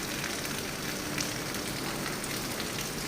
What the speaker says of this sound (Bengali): ওই দেখো বৃষ্টি চালু হয়ে গেছে।